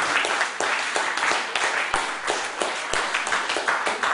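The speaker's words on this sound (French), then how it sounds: "Applaudissons Jésus, alléluia." Rhythmic group clapping at a Christian worship service, loud and close, with sharp regular claps carrying on throughout.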